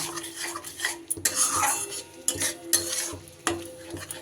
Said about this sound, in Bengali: দইটা দেওয়ার সাথে সাথে এইভাবে ভালো করে একটু নাড়িয়ে নেব